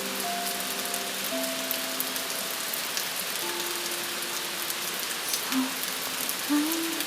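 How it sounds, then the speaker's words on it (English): Soft, light rain falling steadily throughout, a gentle even hiss with faint patters, while a low sustained musical drone plays underneath. "Soft light rain"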